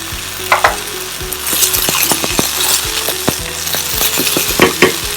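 Blanched green peas sauté in a hot pan with fresh pepper, a steady loud sizzle punctuated by repeated sharp clinks of a utensil stirring against the pan, no speech.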